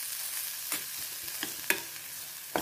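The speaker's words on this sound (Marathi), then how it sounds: "मसाला छान भाजून झाला," Spiced masala for methi amti sizzles and fries in a pan, a close, constant crackle broken by a few sharp stirring scrapes and clinks, with no voices.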